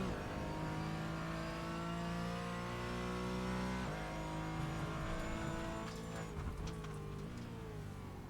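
A Porsche Cayman race car lapping the Zolder circuit, its engine loud and close with rising and falling revs, shifting gears and braking sharply into a chicane.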